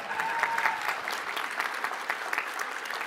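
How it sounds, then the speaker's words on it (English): A conference audience at a summit opening and welcome applauds steadily for about three seconds, a dense, even wash of many hands clapping at moderate distance with no one speaking over it. "let's clap for them."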